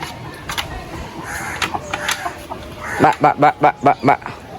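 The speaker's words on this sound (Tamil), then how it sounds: "அம்மா கூப்பிட்டு விடனே விடுது கோழியெல்லாம்" Chickens cluck nearby at their coop, ending in a quick rhythmic run of loud clucks, with a person's voice and other background sounds earlier.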